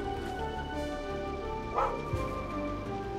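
A dog in the video game Kingdom Eighties gives a couple of short yipping barks over a steady layered synth music background.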